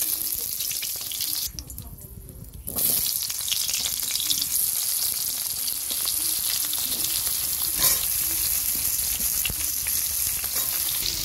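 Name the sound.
vegetables lightly frying in a pan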